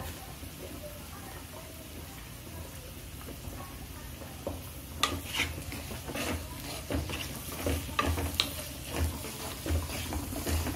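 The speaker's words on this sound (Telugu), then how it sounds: "ఉల్లిపాయ ఇలా కొద్దిగా వేగిన తర్వాత దీనిలో పసుపు వేసుకోవాలండి." Onions with turmeric fry in a pan for a poori breakfast, a quiet sizzle that picks up halfway through as a spoon stirs with scattered scrapes and taps.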